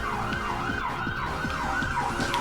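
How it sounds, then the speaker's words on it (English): Emergency sirens wail through an open window, a rising and falling electronic siren cycling steadily over low traffic rumble, moderately loud and continuous. "Naturally, this is when the sirens begin."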